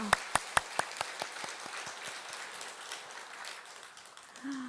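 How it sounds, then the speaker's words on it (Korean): A Buddhist temple congregation at a Buddha's Birthday service claps about ten sharp beats in unison, then keeps clapping in a softer, scattered patter. A voice comes in briefly at the end. "힘차게 박수 10번"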